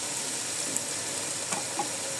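Khichuri spice masala frying in a pan, a steady, close, even sizzle that carries through the whole stretch, with a few faint stirring clinks on top.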